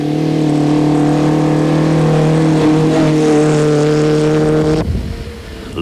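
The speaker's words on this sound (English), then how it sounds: "Alfred van Vieren and Piet Pelzer were still having a trouble-free run in the four-cylinder Toyota Hilux" A four-cylinder Toyota Hilux rally car at a 1991 off-road rally, its engine droning loudly and steadily before the note drops sharply near the end.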